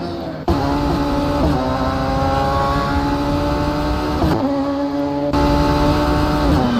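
Radical race cars roar through braking zones at a Caribbean Motor Racing Championship round in Barbados, engines revving high and steady with sharp downshifts and pitch drops as they brake, loud and close.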